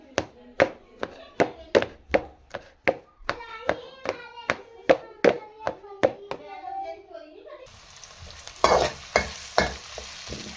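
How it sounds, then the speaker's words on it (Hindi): Rhythmic wet thuds of boiled potatoes being mashed for samosa filling, a steady series of close, sharp strikes, then a brief pause before a few more heavier mashes. "अब इनको हम मैश करेंगे।"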